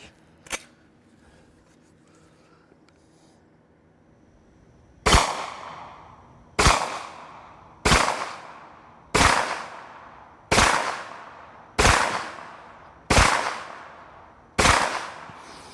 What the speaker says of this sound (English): Let's just shoot the gun and I'll show you what you can do with it